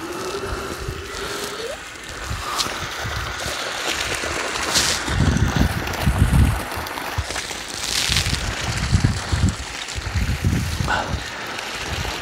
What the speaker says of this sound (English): I hear water moving